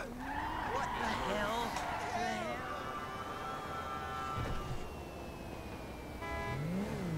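A car driven in the video game GTA 5 Online: engine tones rise and fall with revving and a skidding sweep, moderately loud, as a voice talks over it.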